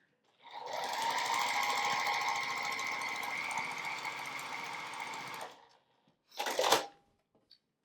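A sewing machine runs steadily for about five seconds, stitching a wall hanging border, with a dense mechanical whir that stops cleanly, followed by a short separate burst of fabric or machine noise.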